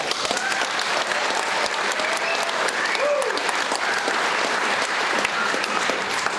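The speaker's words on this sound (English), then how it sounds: "And yes, please applaud." An evening audience applauds World War II 10th Mountain Division veterans with dense, sustained clapping that holds steady throughout, with faint voices and a whistle or cheer mixed in.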